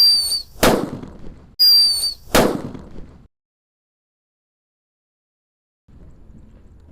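Paper-wrapped firecrackers explode outdoors in two sharp, loud bangs about two seconds apart, each set off by a whistling crackle, followed by silence and faint background noise.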